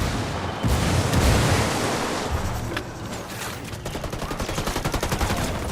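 In the Ghost Recon Wildlands video game, a frag grenade goes off as a heavy booming blast, followed by scattered gunshots and then a rapid rattling burst of automatic fire.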